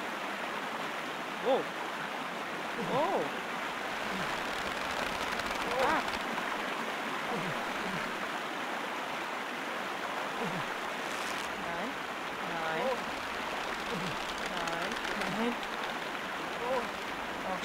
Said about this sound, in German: So, dann gehen wir mal über diesen lauten Fluss.